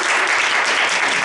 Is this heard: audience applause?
yes